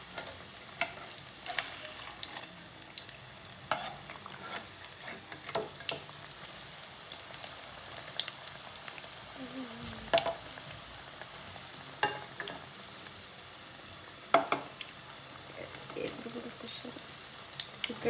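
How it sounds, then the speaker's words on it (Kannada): Onion pakoda frying in hot oil while being stirred in the pan, giving a steady soft sizzle broken by scattered clinks and scrapes of the spoon, fairly faint and close. "ಇವಾಗ ತಿರುಗಿಸ್ತಾ ಇದ್ದೀನಿ"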